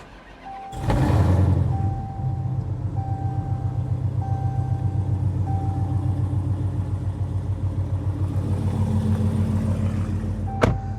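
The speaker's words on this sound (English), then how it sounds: "I'm gonna start the car up for you" An indigo blue Dodge Challenger Hellcat engine cranks from push start and roars to life with a loud burst, then settles into a deep, rumbling idle with a steady throb and faint intermittent beeps.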